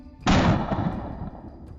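A single sharp rifle shot fired at a buffalo during a hunt in the bush, a loud close blast that hits at once and then dies away in a long rumbling echo.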